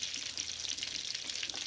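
Bacon cooking in a hot pan, a soft, steady hiss of frying fat, fairly quiet and continuous, with no voices.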